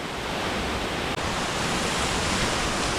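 Waterfall plunging into a pool in Albania, heard close as a loud, steady broadband roar of falling water with no break except one tiny dip.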